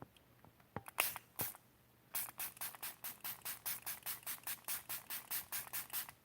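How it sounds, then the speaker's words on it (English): A spray bottle spritzes water onto a paint palette in a quick run of about fourteen even, rhythmic hissing bursts, preceded by a few scattered louder squirts, close and fairly quiet with no talking. "I'll spritz down my palette."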